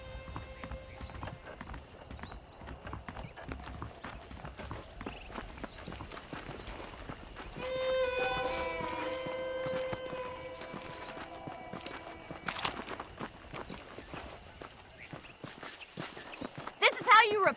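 Horse hooves clip-clopping at a steady walking rhythm while riding in the Red Dead Redemption game, close and continuous, with a brief whinny and voices talking over the hoofbeats.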